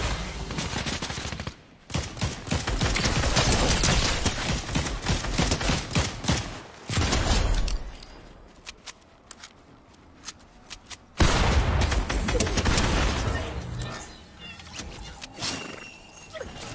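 Rapid automatic gunfire rattles in the Apex Legends battle royale shooter, loud sustained bursts broken by a quieter lull before another heavy volley, then scattered shots.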